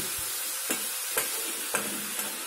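Spicy prawns fry in a pan with a steady broadband sizzle while moisture cooks off, broken by three or four soft stirring scrapes spaced about half a second apart, close and moderately loud, with no voices.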